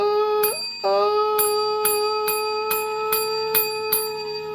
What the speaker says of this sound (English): I stole that bell.